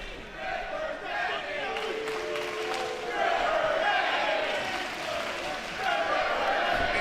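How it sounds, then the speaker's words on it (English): Wrestling arena crowd yelling a rhythmic chant, a broad roar of many voices rising and falling in repeated waves, heard from a distance and fairly faint. "Is that a crowd yelling Stripper Hendry?"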